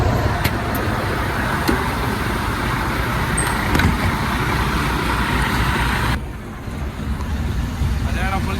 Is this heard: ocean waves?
no